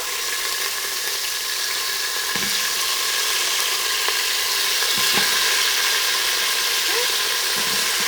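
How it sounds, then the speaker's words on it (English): Potato pieces fry in a hot pan, a loud, continuous bright sizzle with a few soft clinks and stirring bumps, close up and without speech. "Let that sizzle for a few seconds."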